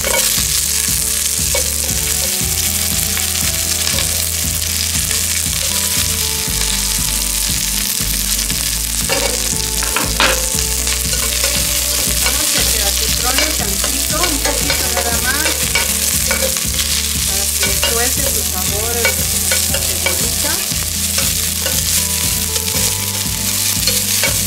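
Chopped onion sizzles loudly in hot oil in a pan, stirred steadily with repeated scraping strokes throughout, cooked alongside garlic while preparing mashed beans.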